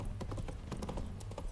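A horse galloping in The Witcher 3 video game, rapid rhythmic hoofbeats close by and fairly faint, continuing steadily without a break.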